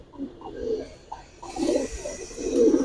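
Pigeons coo at a busy pigeon market selling Giribaz and coloured pigeons, soft low coos repeating in bursts with a fuller chorus of cooing in the second half, against steady market background noise.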